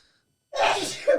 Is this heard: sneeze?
yes